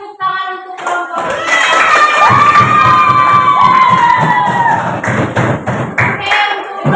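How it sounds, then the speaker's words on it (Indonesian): A classroom of children cheer and clap for a group after a presentation on the world's continents, loud excited shouts and high voices over a fast patter of small hands, with thumps mixed in and the clapping continuing to the end. "Beri tepuk tangan untuk kelompok."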